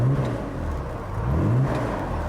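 A 1967 Aston Martin DB6 engine idles and revs nearby, a steady low rumble with a couple of gentle swells in pitch, heard alone without talk.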